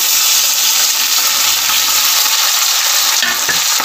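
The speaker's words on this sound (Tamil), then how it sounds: "வெங்காயம் வதங்கட்டும்." Onions and green chillies sautéing in a pan give off a loud, dense, unbroken hiss of frying that stays even throughout, close up, with a faint clink near the end.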